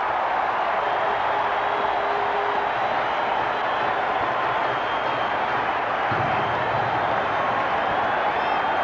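A dense roar from a baseball stadium crowd cheering at a 1987 Rangers–Brewers game, continuous and broad, with an announcer talking over it.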